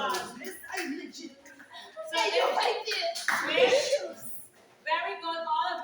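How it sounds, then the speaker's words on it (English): A classroom of children applauding a classmate in bursts of clapping, mixed with children's chatter and a teacher's voice throughout. "Alright, give Darrell a big applause."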